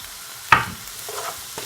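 Seasoned coconut callaloo saltfish fried rice is stirred in a hot pan, one sharp scrape followed by soft sizzling and a couple of lighter scuffs, brief and close.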